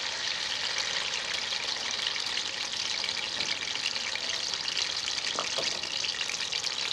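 Finely chopped onion fries in hot oil for a gobhi chicken dish, giving a steady, close, continuous sizzle with a few faint stirring knocks and no talking.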